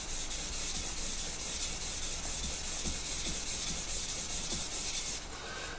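A bushcraft knife blade is rubbed steadily across a sharpening block, a continuous close abrasive scraping with faint stroke-by-stroke pulses, heard alone until it stops just before the end.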